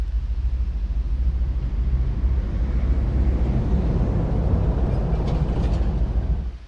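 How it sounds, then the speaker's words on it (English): In a train simulator game, a London Underground depot gives off a steady low rumble of trains idling and moving nearby. The sound stays continuous and fairly even throughout, with no speech. "You can hear the trains around you"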